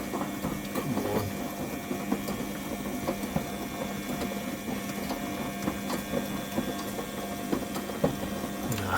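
Washing machine running with its back and top covers removed, a steady mechanical hum with a constant low drone and repeated small clicks and knocks from the exposed workings, heard up close.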